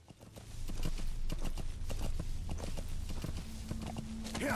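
Horse hooves clip-clopping in Metal Gear Solid 5, a quick, close, rhythmic trot of sharp hoof strikes that runs steadily through, with faint game sounds behind.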